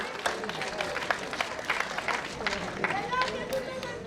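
An audience at a children's event in Slovenske Konjice claps for the children, a moderate, somewhat uneven round of applause with a voice or two faintly mixed in.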